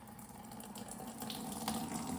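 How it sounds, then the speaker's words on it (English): Chemical liquid from cleaning a Fantic GT250 exhaust pours out through a sieve into a bucket, a faint, steady splashing gush with no talk. "I'm going to pour this out into a sieve, into this bucket"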